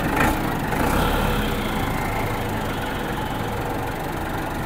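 A 385 Deluxe tractor's engine idles nearby, a steady low rumble with a slight knocking throb that stays even throughout, no talk over it.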